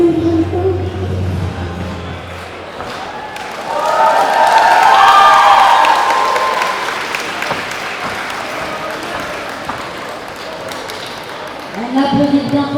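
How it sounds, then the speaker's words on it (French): Sustained audience applause at a cosplay contest, a steady wash of clapping from a crowd that swells in the middle and fades, with a host speaking over it at the start and end. "On applaudit bien fort à Marlos"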